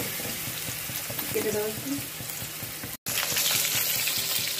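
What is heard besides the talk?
garlic frying in a pan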